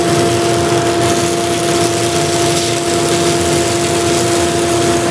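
A power sander runs at high speed on a surface, a loud, close, constant motor whine and drone that holds steady throughout with no voices.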